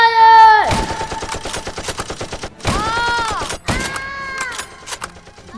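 Rapid volleys of rifle fire as troops shoot into a fleeing crowd at Jallianwala Bagh in a film scene, loud and sustained bursts with screams and shouting voices over and between the shots.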